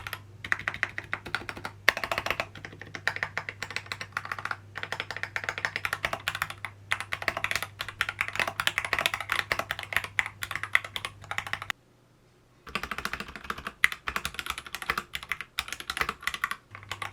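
Fast typing on a modded mechanical keyboard with new switches and keycaps, a dense run of close, crisp clacks and thocks, pausing once briefly before resuming.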